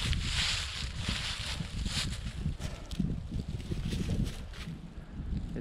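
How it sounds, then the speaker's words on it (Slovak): Wind blows across the Ostrá Malenica hilltop, buffeting the microphone in steady gusts and rustling. The sound is close, constant and fairly loud, and no one speaks. "Troška nám tu fúka"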